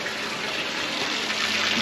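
Spring water pours from a stone gomukh spout into a built tank at a thousand-year-old temple carved from a single rock, a steady close rushing splash with no voices.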